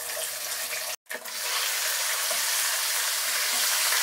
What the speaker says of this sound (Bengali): মশলাগুলোকে হালকা করে একটু ভেজে নিতে হবে।